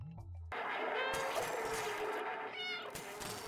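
A cat in the video game Stray meows loudly and drawn-out over a dense noisy background, with a second shorter meow near the end.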